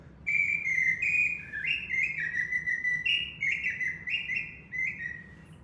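A small handheld bird whistle with two side holes imitates bird calls in a string of bright warbling chirps and trills, with short pauses between phrases, over quiet room noise.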